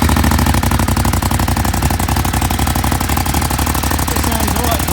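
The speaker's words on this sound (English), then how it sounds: "So you've still got the kind of the Monster idle on this bike." A 2018 Ducati Monster 821 motorcycle engine idles with a loud, lumpy, rapid pulsing beat, steady and close throughout with no change in pace, while voices speak over it.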